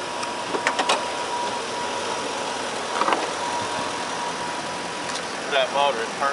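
The 5.4-litre engine of a 2006 Ford E-350 Super Duty van runs steadily at idle, a constant mid-pitched drone with a few faint clicks and a voice briefly near the end.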